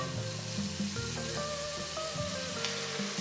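Onions sizzling and frying in a tablespoon of oil in a pan for fish curry, a steady bright crackle with soft stirring clicks, close and continuous.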